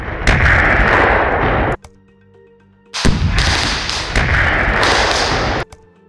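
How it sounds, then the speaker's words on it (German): Two loud, sustained explosive blasts, each roaring for nearly two seconds, separated by a brief quiet gap. "Der Klang einer der Explosionen wurde aus dem YouTube-Video übernommen."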